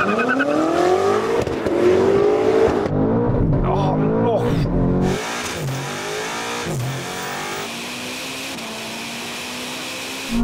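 A BMW M5 and a Ferrari SF90 launching hard side by side in a drag race, engines roaring loudly and climbing through gears with rising pitch sweeps and gear shifts, then fading into a steadier drone as they pull away.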